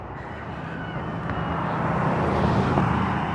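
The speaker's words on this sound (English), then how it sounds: "I think we've got a car." A car passing outside, a steady broad road rumble that slowly swells louder over a few seconds, heard from indoors with no talking.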